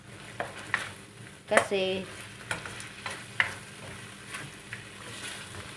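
Chicken breast and curry paste stirred in a pan, with soft scraping strokes and one sharper clatter of utensil against pan over a faint sizzle, under a few brief spoken words.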